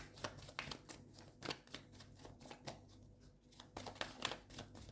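A deck of tarot cards is spread out by hand, giving soft, quiet papery swishes and light flicks in irregular bursts, close and alone.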